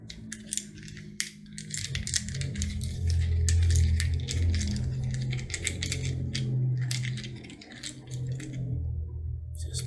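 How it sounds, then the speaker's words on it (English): Clattering, clicking coins being shuffled and rubbed together in a steady, continuous jumble close by, with a low rumble underneath. "So Spirit says stop shuffling coins."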